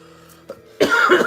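A single loud, close cough bursts out after a moment of near quiet, harsh and breathy, from someone wearing spray-on deodorant.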